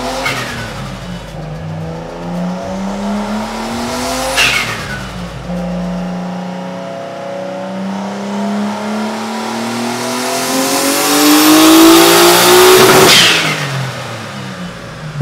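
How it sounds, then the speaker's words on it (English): Nissan Skyline R32 on a dyno, its engine revving loudly through a long rising pull, winding up in pitch toward a peak before dropping off, alone with no talk. "A nice 332 wheel horsepower pull."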